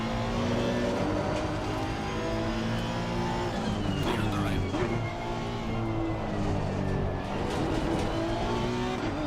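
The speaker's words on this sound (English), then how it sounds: "The Ferrari just so fast down the straights." Ferrari GT3 race car in Assetto Corsa Competizione at Paul Ricard, its engine screaming steadily on the straight with rising and shifting pitch, a loud continuous drone with someone commentating over it.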